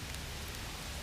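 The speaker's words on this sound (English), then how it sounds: "Right now it's raining" Steady rain falling outdoors on a morning, a continuous even hiss of drops on surfaces with no voices, filling the whole moment.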